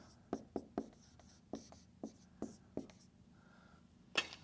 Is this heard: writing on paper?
yes